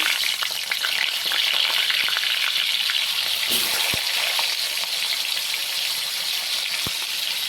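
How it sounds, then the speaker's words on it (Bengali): Potato pieces fry in hot oil in a home kitchen, a dense, loud continuous sizzle with crackles and a few sharp clinks of a utensil against the pan. "এবার আলুটাকে হালকা করে একটু ভেজে নেব।"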